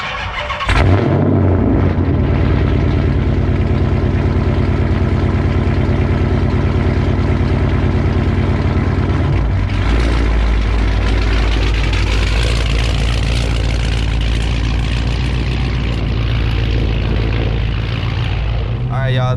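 A Dodge SRT8's engine idles loudly up close, a deep steady rumble that holds for the whole stretch, with a brief rise in revs near the start and again around the middle.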